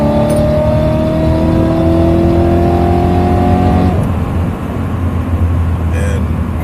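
A supercharged BMW E92 M3 fitted with an ESS G1 kit accelerates hard, its engine note climbing steadily for about four seconds before lifting off to a rumbling lower drone, loud and close from inside the cabin.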